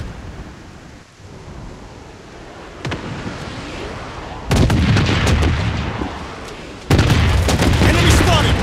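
Heavy gunfire and booming blasts in a shooter video game, arriving in loud bursts that grow denser and closer partway through, with battle noise continuing between volleys.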